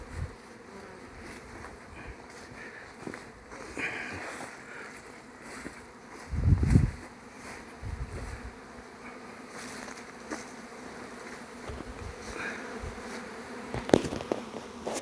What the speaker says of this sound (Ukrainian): Ще трошки побудемо, бо навіть ще трутень є. Ще не виганяють ще літає.